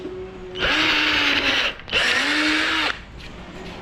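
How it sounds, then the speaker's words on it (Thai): A power drill drives screws into a wooden bed frame in two loud bursts of whirring, the first briefly dropping off before the second run, both close and clear with no talk. "แล้วก็จะยิงน็อตลงไปนะครับ สัก 2 ตัวนะครับ"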